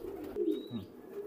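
Motiyala and Fakirkul cross-breed pigeons coo in low, soft throaty phrases, close by, with a brief faint chirp overhead and no talking.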